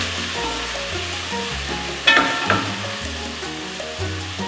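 Seafood for sinigang stirred in a pot, a steady sizzle with a few scraping spoon strokes around the middle, close and fairly loud with no talking.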